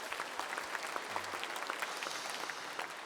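Audience applause after the flag entrance at a Korean diaspora world mission convention evening session: steady, dense clapping from a large crowd, fairly even in level for the whole stretch, with no talking over it.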